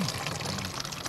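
Mineral spring water known locally as burkut flows and pours steadily at close range, a continuous bright splashing trickle with no pauses.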